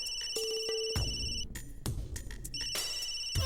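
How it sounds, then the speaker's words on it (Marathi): A phone ringtone rings in a domestic scene from a Marathi TV serial, its steady electronic tone repeating in short bursts with pauses between them, clear and close. "खूप महत्वाचा फोन आलाय."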